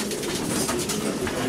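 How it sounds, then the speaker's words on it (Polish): Racing pigeons in a loft coo softly and continuously, a low murmuring warble from several birds close by with no talking. "Jeszcze raz zobaczymy gołębie."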